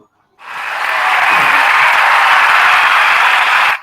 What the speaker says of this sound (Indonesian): Nah, efek tepuk tangan. Jadi efeknya tepuk tangan.